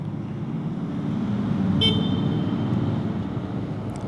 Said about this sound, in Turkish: sinyali kapatırken kornaya bastım